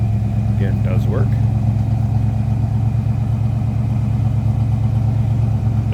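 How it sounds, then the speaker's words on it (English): A V8 in a 1939 Ford Deluxe Coupe street rod idles with a low, steady rumble, close and even throughout with no revving, and a voice speaks briefly over it. "a nice rumble to let you know it's got a V8 underneath the hood"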